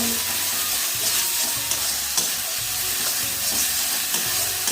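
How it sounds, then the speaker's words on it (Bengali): Spice masala frying in a pan, a loud continuous hissing sizzle with rhythmic stirring scrapes repeating roughly every half second, close and without talk. "দেখো মশলাটা আমার খুব সুন্দর কষানো হয়ে গেছে।"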